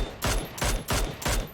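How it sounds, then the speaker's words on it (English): Four evenly spaced, heavy gunshots from the PUBG battle royale game during a tournament match, loud and close, each with a short booming tail. "Oh, great shot there from Predicted Circles."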